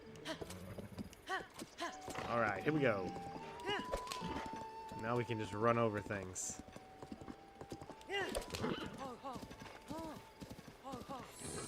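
Horse galloping in The Legend of Zelda: Breath of the Wild, a steady clip-clop of hooves running beneath continuous player talk, with a bright tonal game effect and possible whinny sounds mixed in at moderate loudness.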